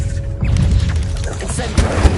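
A Confringo blasting spell explodes in Hogwarts Legacy, a booming burst within dense game noise, with sharper thuds landing near the end.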